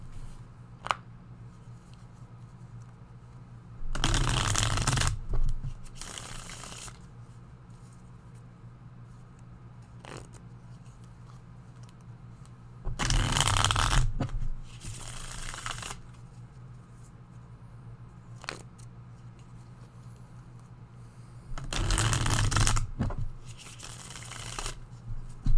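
A deck of tarot cards is shuffled in three separate bursts of crisp riffling about nine seconds apart, close and fairly loud, with quiet pauses between and no talking.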